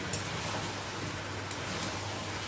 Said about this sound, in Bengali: এখন আমি চিকেনের মধ্যে এই যে ভেজে রাখা আলুগুলোতে ভেজে দেব একটু ভালো করে